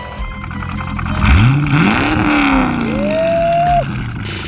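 A C5 Corvette idling in park gets a light tap of the throttle, and the engine revs up and holds for a few seconds before dropping back. It sounds close and loud, with no talk over it.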